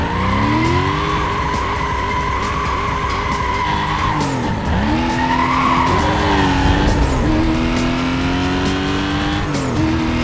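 An Aston Martin DB9 in the racing video game Need for Speed: Most Wanted, its loud engine note rising and dipping through gear changes with tire squeal and skidding, close and continuous throughout.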